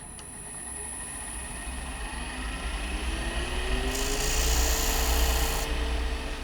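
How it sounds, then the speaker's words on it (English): A parting tool cuts a tenon into olive ash on a wood lathe, a steady whirring hum with a thin scraping tone that swells and brightens partway through. "I'm now going to use the parting tool to cut in and set the depth for my tenon"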